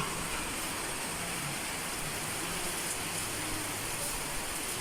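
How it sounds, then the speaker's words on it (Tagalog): Heavy rain pours down steadily during a stretch of bad weather, a constant dense patter and hiss on surfaces that stays even and moderately distant, with no voices over it. "Lakas pa rin ng ulan."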